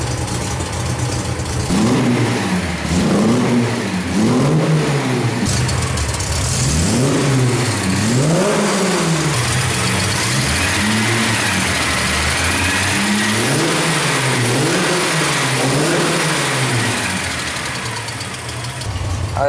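A Chevrolet Coupe 250 SS engine runs close by, its revs climbing and falling again and again in a rough, throaty rhythm over a steady idle, with no talking.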